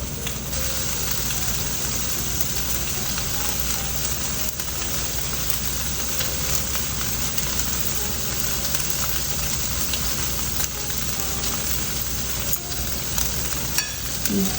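Spam spring rolls deep frying in hot oil, a dense, even sizzling crackle that holds steady and close for the whole stretch with no talking.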